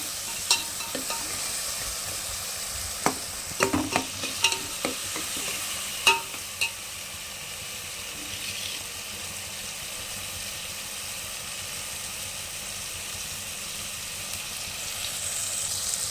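Garlic frying in hot oil for a fish-and-cowpea curry gives a steady, close sizzle, broken in the first seven seconds by a few sharp clicks of a spoon stirring, then settling into a continuous hiss.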